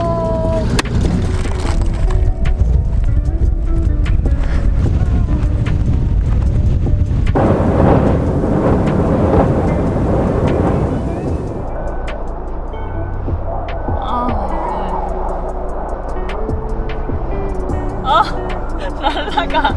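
Storm Betty hitting a campervan in Wales, a loud, continuous roar of heavy wind and rain against the vehicle, with deep rumbling gusts that shift in intensity and no talking.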